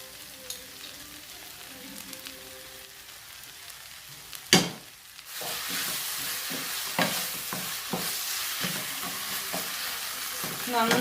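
Egg masala with tomato ketchup is stirred in a hot pan. A sharp clatter of the spoon is followed by a loud, continuous sizzle with repeated scraping strokes.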